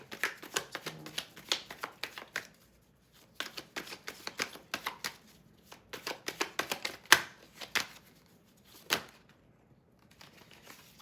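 Tarot cards being shuffled and drawn during a full moon reading, a run of quick crisp riffling flicks with short pauses between bursts and a few sharper snaps, close and fairly quiet with no talking.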